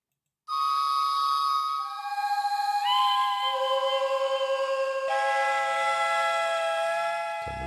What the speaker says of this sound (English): Estatuilla whistle?